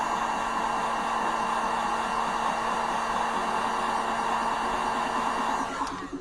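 A heat tool blows hot air onto a phone charging port during a repair, giving a loud, steady whooshing hiss that holds constant before cutting off abruptly at the very end.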